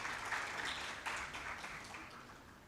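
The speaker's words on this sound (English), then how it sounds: "Please give him a round of applause." At a pension workshop, an audience offers a short round of applause for a panelist, a fairly quiet, dense patter that gradually thins out.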